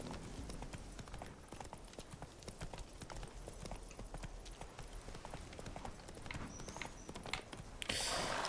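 Hoofbeats of Roach, a horse in The Witcher video game, trot in an even, continuous rhythm at moderate volume, ending with a brief rush of noise.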